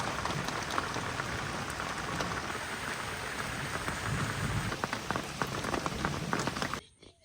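Steady rain falls throughout during a midday spell after a day of rain, a dense, even hiss of drops on surfaces that cuts off abruptly near the end.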